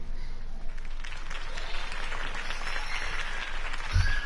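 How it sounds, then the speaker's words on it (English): Steady crowd applause and cheering fills the whole stretch, a dense wash of clapping with a brief thump near the end, from a crowd at a political campaign speech in a Batman video game. "could have heard that applause"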